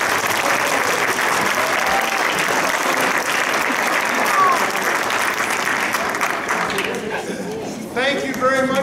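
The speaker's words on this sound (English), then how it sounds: "give them a round of applause" Sustained applause from a large crowd at a middle school band concert fills the space, thinning near the end as a few voices come through.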